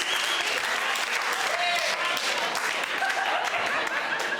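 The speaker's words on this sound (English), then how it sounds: "Applause." A stand-up comedy audience in a bar applauds loudly and continuously, a dense wash of many hands with faint voices and a chuckle mixed in.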